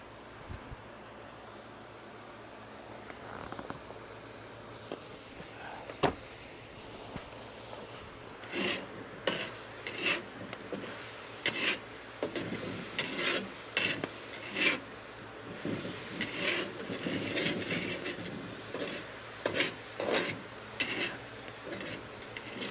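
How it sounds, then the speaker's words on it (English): Onions with a little salt sautéing in a pan over an open outdoor fire, giving a soft, steady sizzle with scattered crackles and bursts, plus occasional louder scrapes and clinks of stirring. "I put a little salt with my onions when I saute them."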